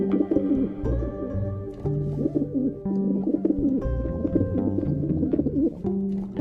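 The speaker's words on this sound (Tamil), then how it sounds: "புறா." Soft, throaty pigeon cooing rolls on in repeated low phrases, fairly close, with a steady musical accompaniment underneath throughout.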